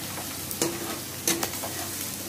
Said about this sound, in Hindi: अब देख सकते हैं आलू थोड़ा सा हल्का फ्राई हो गया है।